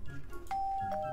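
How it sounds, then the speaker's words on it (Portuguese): A single doorbell chime from the video game Minecraft sounds once, a clear sustained tone that fades, over faint background noise. "Eu vou tocar a campainha dela."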